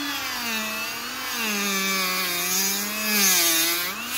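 A grinder on a medium-to-high setting grinds through a soft shoe insole, a steady loud whine with strongly tonal harmonics that rises and falls in pitch as the tool is pressed and eased, continuous throughout with no talking.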